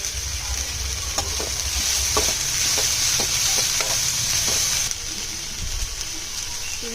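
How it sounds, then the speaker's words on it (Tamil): Green chillies and tomato sautéing in a pan for curry leaf thuvaiyal, a steady close sizzle with occasional stirring scrapes throughout, no voices. "பொன்னிறமாக வந்த பிறகு ஒரு தக்காளி போட்டு வதக்கிக்கோங்க."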